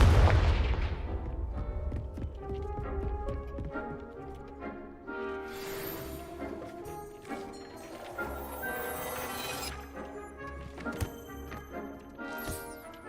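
Confringo explosive spell cast in Hogwarts Legacy, opening with a deep booming blast that decays, followed by layered magical game effects and musical tones.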